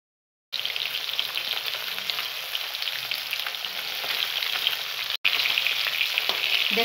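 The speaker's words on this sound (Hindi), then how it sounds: "अब हम मछली को इसमें बारी बारी से डालकर और तल दोनों तरफ लाल होने तक इसको तलेंगे।" Fish pieces fry in smoking-hot oil for a masala recipe, a loud, steady close-up sizzle that starts abruptly after a moment of silence and keeps going, with one brief cut near the end.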